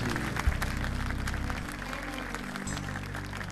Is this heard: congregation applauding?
yes